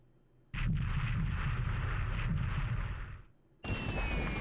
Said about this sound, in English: Oh, these are torpedoes, it sounds like.